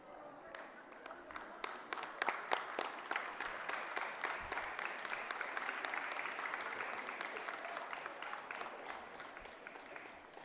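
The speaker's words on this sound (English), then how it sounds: "give them a big round of applause" Sustained applause from a graduation ceremony audience at Fife College, many hands clapping steadily at moderate distance throughout without a break.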